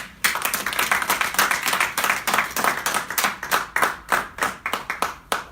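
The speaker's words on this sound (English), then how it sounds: "Can we all give her a round of applause?" A small group claps for a woman during a live online session, the claps distinct and fairly close, ragged and steady for several seconds with no talk over them.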